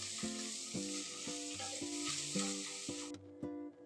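Ground masala frying in oil in a pan for masala chitranna, with a steady sizzle and repeated rhythmic scrapes of a spoon stirring, close and alone, ending with a couple of sharper clinks.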